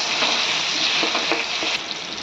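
Jackfruit with turmeric powder fries in a pan, a bright close sizzle with a few soft stirring scrapes, steady and then briefly dipping near the end.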